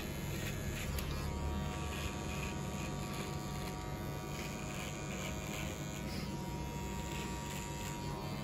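In a barbershop skin fade haircut, an electric hair clipper buzzes steadily and close at hand as it cuts a beard outline, a constant motor hum with slight shifts in tone as it moves through the hair.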